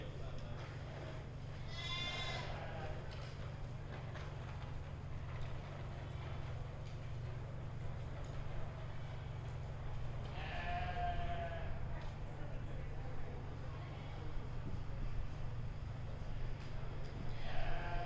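At a 4-H goat show, during senior goat showmanship in the ring, a goat gives two separate bleats several seconds apart over a constant low hum and faint crowd murmur.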